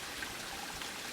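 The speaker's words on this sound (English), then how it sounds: "it's starting to rain" Light rain begins falling in the woods on a backpacking trail, a soft steady patter of drops on leaves and ground, faint and even, with no talking.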